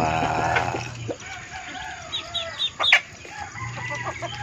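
Hens clucking and murmuring nearby in a farmyard, with a few sharper squawks and low ambient hum in the background.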